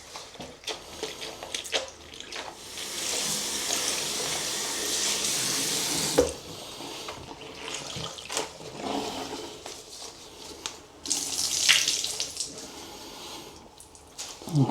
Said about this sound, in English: All of the water coming out of this filter now is nice and clear.